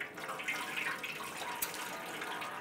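Engine coolant pours from a disconnected hose on a 2011-2018 Ram 1500, making a steady, faint liquid splashing and trickling with no talk.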